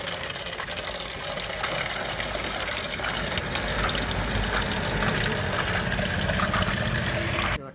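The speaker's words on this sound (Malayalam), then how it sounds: "അങ്ങനെ ചെടിക്ക് നമ്മൾ വെള്ളം കൂടെ ഒഴിച്ചു കൊടുത്തു." Water is poured into a plant growing inside a pipe, a continuous loud gushing and splashing that runs steadily for several seconds before stopping abruptly.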